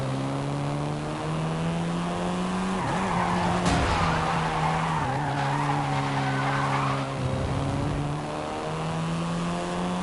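A Volkswagen Golf R, the seventh-generation hot hatch, skidding in the racing game Forza Horizon 5, with a loud sustained engine drone and squealing tires that rise and fall through several slides.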